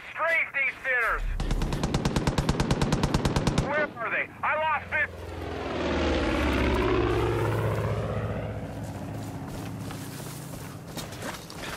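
Propeller aircraft in the video game Far Cry 5 droning past and fading into the distance, preceded by bursts of rapid machine-gun fire, with someone talking over the start.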